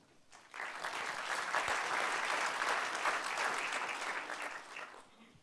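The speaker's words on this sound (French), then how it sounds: "Je vous demande d'applaudir et d'accueillir son président, Frédéric Van Hout." Conference audience applause at a travel entrepreneurs' convention opening, a sudden wash of many hands clapping that holds steady for several seconds before fading out, without voices.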